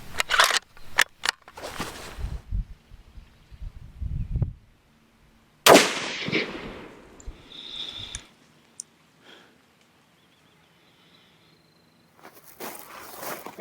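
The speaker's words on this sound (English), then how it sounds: "And here goes shot number 2." A rifle shot fired while zeroing at 200 yards: one sharp, loud report cracks out and decays over a couple of seconds, surrounded by handling clicks and shuffling, with faint outdoor quiet afterward.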